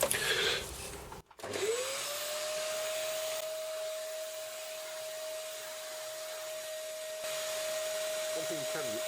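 A vacuum cleaner kicks on after a brief handling clatter, its motor rising to a steady close whine that holds a constant pitch and stays loud to the end.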